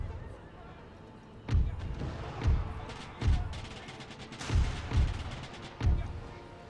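Troops fire at a river crossing in the Netherlands in a wartime video game: about six heavy booming shots land roughly a second apart over a constant background din.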